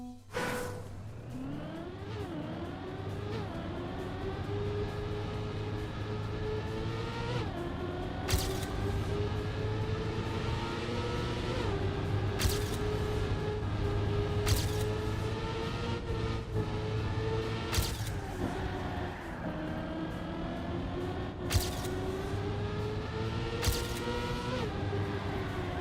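Race car engine drifting through turns in the Trackmania video game, a steady droning whine with rising and falling pitch as it revs, broken by sharp transient bursts through the run, loud and continuous with no talk.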